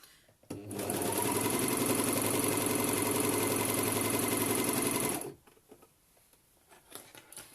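A sewing machine runs in one steady, loud burst for several seconds, then stops, leaving faint clicks and handling noises.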